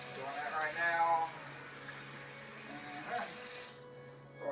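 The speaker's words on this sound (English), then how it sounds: "So definitely after you handle raw eggs, wash your hands with soap and water." Tap water runs steadily into a kitchen sink as hands are washed with soap after handling raw eggs, a soft continuous stream heard close while someone talks over it.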